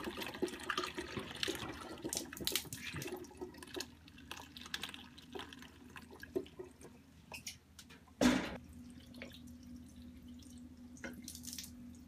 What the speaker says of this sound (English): adding the wort through the strainer